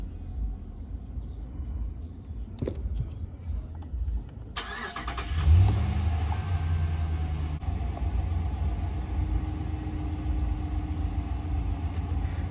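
Ram 1500 pickup engine idling right after an oil change restart, a steady low rumble with a faint higher hum that stays close and even, following a quieter stretch and a click before it settles.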